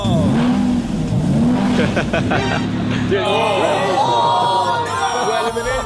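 Lamborghini sports car revving and accelerating, loud engine roar with rising and falling pitch sweeps, mixed with voices throughout and a busy crowd-like background.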